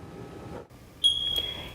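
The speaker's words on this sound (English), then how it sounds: "It's the annoying chirp of a battery needing to be changed in a smoke detector." A smoke detector gives a single short, high electronic chirp for a low battery, sharp and fairly close over a quiet room background.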